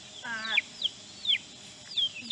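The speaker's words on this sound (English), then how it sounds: "now we're going to get told about our backyard chickens" Backyard chickens at an urban homestead cluck nearby in a few short, rising calls spaced about half a second apart, with quiet background in between.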